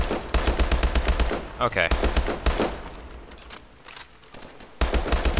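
Rapid, loud automatic gunfire in the Call of Duty: Advanced Warfare campaign rattles in steady bursts, breaks off briefly, then resumes, with a short spoken word partway through.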